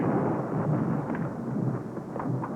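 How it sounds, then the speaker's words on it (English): Low rumbling thunder rolls on steadily, moderately loud and continuous with no voices. "you mustn't be afraid of a little bit of thunder"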